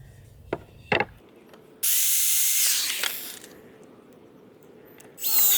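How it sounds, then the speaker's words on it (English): A power drill bores pilot holes and drives screws into wooden slats of a small pet Adirondack chair, up close: a couple of sharp knocks, then a loud sustained whine that winds down, and a second burst at the end. "Drilling pilot holes. And I guess for these, I don't need 2 screws. I'm just going to put 1 screw in each"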